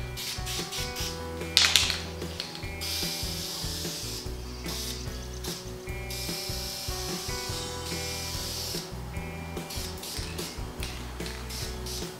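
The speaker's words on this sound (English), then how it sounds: "you take your test shot on the side and then spray the entire thing down again." Spray gun hissing steadily while coating interior trim pieces with red paint, in long continuous bursts with brief pauses, over a constant background hum.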